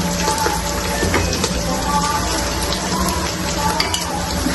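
Ginger garlic paste and biryani masala frying in a pan for a fry piece biryani, a steady close sizzle that hisses evenly without pause.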